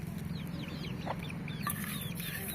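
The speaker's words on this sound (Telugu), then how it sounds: "కోళ్ళు రాకుండా ఏమైనా చేయాలా?" Chickens cluck in a backyard vegetable garden, several birds close by giving short, scattered clucks and chirps over a steady low hum, with no talking.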